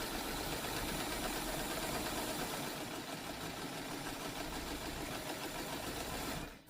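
A sewing machine stitches fabric for a boxed dog bed cushion, running steadily with a fast mechanical whir for several seconds before stopping abruptly at the end.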